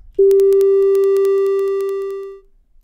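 A single synthesized sine wave tone ending in a triangle wave starts abruptly and holds steady for about two seconds, slowly fading out, with a faint buzzy edge in its timbre.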